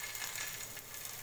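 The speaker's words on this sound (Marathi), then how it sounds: "हे असं थोडंसं तेल टाकायचं आणि त्याच्यावर हे असं काढून असं तव्यावर टाकायचं" Rodga, a thick multigrain flatbread dough, sizzles steadily in a little oil on a hot griddle over medium heat, a soft continuous frying hiss with no talk.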